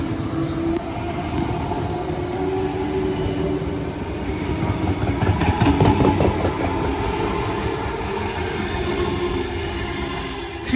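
A Sydney Tangara train passes through a platform at Erskineville station during the afternoon peak, its loud rumble and rhythmic clickety-clack of wheels swelling near the middle and then easing, with no voices.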